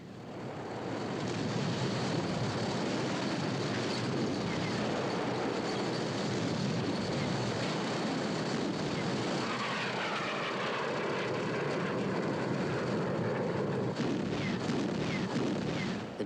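WWII Soviet military aircraft engines drone during the Battle of Berlin, a loud, continuous roar with dull rumbling bursts mixed in.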